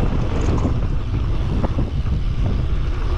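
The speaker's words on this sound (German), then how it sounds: "Hier ist aber windig." Wind buffets the microphone while mountain biking on a bike park trail, a continuous low, rumbling roar, gusting unevenly throughout.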